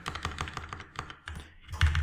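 Rapid keystrokes on a computer keyboard while deleting text during a React coding session, a run of close, fairly loud clicks ending in a heavier thump of a key press.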